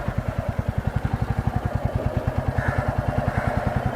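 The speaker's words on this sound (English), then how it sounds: "now the bike is moving" A motorcycle rides along in second gear, its engine thumping in a fast, even pulse throughout, close and steady with wind noise above it.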